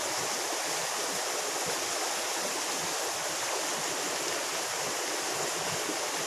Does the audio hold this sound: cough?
no